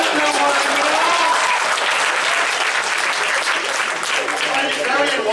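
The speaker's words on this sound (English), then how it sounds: "It's very unwise to applaud before you've heard the line." Loud, sustained applause fills the room from a large audience during an interview with the Prime Minister, with voices audible faintly through the clapping.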